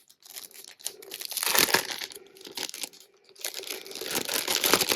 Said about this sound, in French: On va déballer.